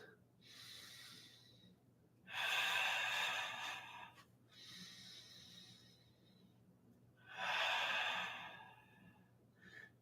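Slow, audible breathing during a held seated twist in a qigong and Dao yoga session: two long, breathy exhales or sighs alternate with quieter inhales, close and fairly soft, with no talking.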